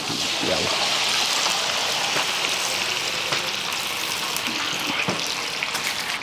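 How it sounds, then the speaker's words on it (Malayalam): Coconut oil, already used for frying chicken, is poured into a pan for chicken curry, giving a steady close trickle and sizzle that runs unbroken throughout. "നമ്മൾ ചിക്കൻ കറിക്കുള്ള എണ്ണ ഒഴിക്കുവാണ് ഇത് ചിക്കൻ പൊരിച്ച് വെളിച്ചെണ്ണയാണ്"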